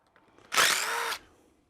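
A brief burst of a power drill driving a screw into aluminum, running for about half a second, close and fairly loud, after faint handling noises.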